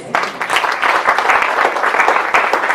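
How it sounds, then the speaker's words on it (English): A crowd applauds steadily, a dense wash of many hands clapping together, loud and sustained throughout. "And I do think that Kim really deserves a round of applause."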